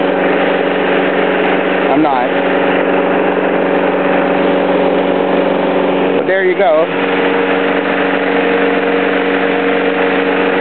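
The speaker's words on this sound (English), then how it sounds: "As you can see, the engine's running." A 4 hp mower engine running on wood gas from a gasifier drones steadily and loudly at idle throughout, with someone talking briefly over it.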